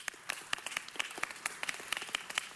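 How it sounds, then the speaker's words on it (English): Sparse, scattered hand claps from a small audience at a city council meeting, a few distinct claps repeating irregularly at moderate distance, no talk. "Give him a big round of applause for that."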